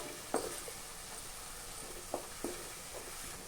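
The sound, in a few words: onions frying and stirred with green chilies, curry leaves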